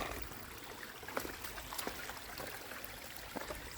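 Steady trickling and babbling of creek water flowing over a rocky bed, a constant soft wash with faint splashes, no voices.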